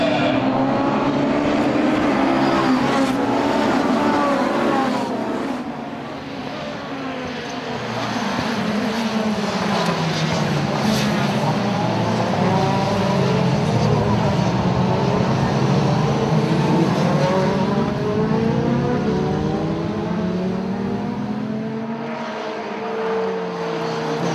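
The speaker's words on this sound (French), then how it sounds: "Le grand show des Sport Proto. C'est parti pour 3 heures de course." Sport Proto race cars roaring off at the start of a three-hour endurance race, a loud massed blend of engines rising and falling in pitch as the field passes close, continuous throughout.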